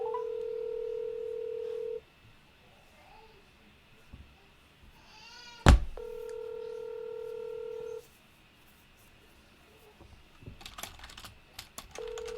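Telephone dialing heard close by: a steady dial tone, then a quick run of keypad tones, a sharp click and a second long tone, with faint tapping and soft clatter near the end.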